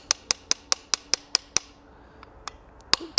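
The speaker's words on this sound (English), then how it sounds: "We'll go ahead and hammer this up." Hammering hot metal while forging a gothic-style bottle opener, a fast regular run of sharp ringing blows close up, then a pause and a few sparser strikes.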